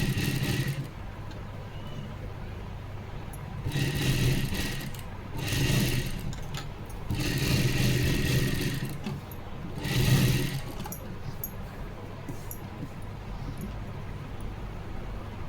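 A sewing machine stitches a blouse piece with its lining in several whirring bursts of one to two seconds each, separated by pauses over a low background hum.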